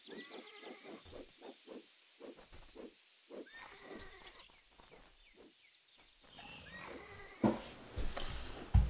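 Short, repeated neighs and whinnies from a horse in the video game Titan Quest, quiet and spaced apart, followed by a louder burst of game noise near the end.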